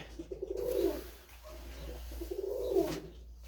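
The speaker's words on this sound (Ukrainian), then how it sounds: "такий от голубок." Soft, throaty pigeon cooing in two rolling phrases, close by, with a quiet gap between them and faint background hum.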